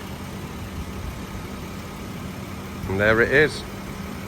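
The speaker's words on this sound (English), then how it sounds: "AJ16 engine, 4 litre, running absolutely perfectly" An AJ16 4-litre car engine idles smoothly as a steady low rumble throughout, while someone speaks briefly over it near the end.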